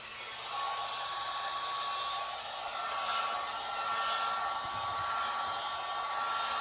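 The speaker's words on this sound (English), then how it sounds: "taking our handy dandy heat gun. I'm gonna add some heat to this, first all over" A heat gun cranked to its highest setting blows steadily on an epoxy-coated tumbler, making a continuous, even airy roar that carries through the whole stretch with no talking.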